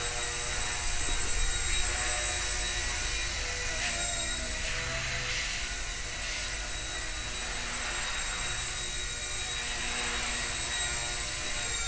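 A Blade mCPX radio-controlled micro helicopter flies in stunt mode, its rotor giving a continuous high whine that swells and dips slightly as the pitch changes, close and steady throughout, with no voices.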